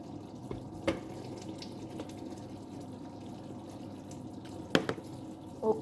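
Cold water running from a kitchen tap, a faint steady trickle with a few sharp clinks and knocks, quiet and close with no voices.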